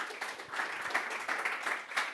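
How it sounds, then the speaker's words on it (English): Audience applause for a conference speaker at a VR conference, steady, dense clapping across the whole stretch at moderate level, with no talking over it. "Applause for David, please."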